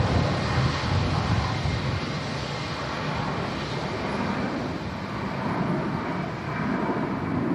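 An Emirates airliner on the runway at Manchester Airport on a windy day makes a steady, loud, broadband engine roar and rumble that holds evenly throughout with no talking.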